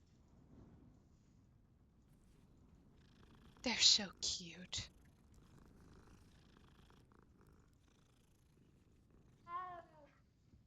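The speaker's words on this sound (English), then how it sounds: "Cat." A cat in a video game purrs in a few close, soft bursts partway through, with a voice talking quietly over the scene before and after.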